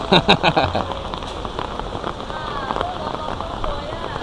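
Steady rain patters on a surface at a Chinese temple in Singapore, with a few sharp knocking sounds at the start and a voice murmuring faintly underneath.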